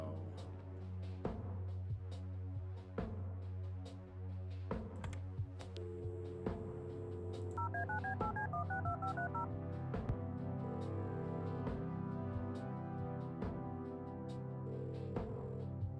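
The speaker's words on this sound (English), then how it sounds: "You've reached Erica Wade. Leave a message after the beep" Telephone keypad dialing in the point-and-click game Kathy Rain: a quick run of electronic touch-tone beeps, clear and close, over a steady bed of game music.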